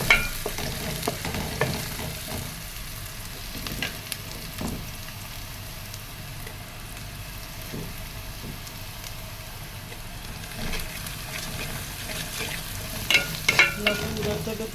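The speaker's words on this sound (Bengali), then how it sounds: "পেঁয়াজ ভাজার সাথে লবণ লাগিয়ে দিচ্ছি" Onions fry with salt in a pan, giving a continuous soft sizzle with scraping stirring strokes now and then, close and steady, with no talking.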